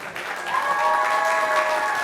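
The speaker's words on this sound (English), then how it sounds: "give yourself a round of applause." Students and guests at a high school Emmy awards ceremony clap for the winners, a brief, full burst of applause that swells quickly and stays loud, with a faint tonal hum beneath.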